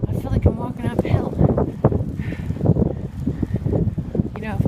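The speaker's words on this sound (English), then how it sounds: "when you're walking against the wind, I feel like I'm walking uphill." Strong wind gusts during a New Hampshire snowstorm buffet the microphone in a steady, loud roar while someone walks against it, with a muffled voice faintly mixed in.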